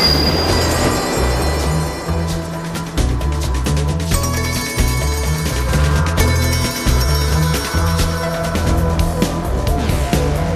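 A train rolls along the rails on a long journey toward Seattle, with a steady heavy rumble, rhythmic clatter and bright metallic wheel squeals rising repeatedly throughout, loud and close, with no talking.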